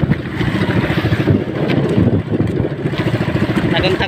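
Strong wind roars and buffets the microphone in uneven gusts, with a rough, rushing wash of waves churning at the shore beneath it.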